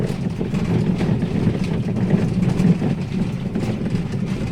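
Front suspension of a Daihatsu Sirion giving off a steady, loud low rumble and droning vibration with faint knocks, continuous throughout with no talking.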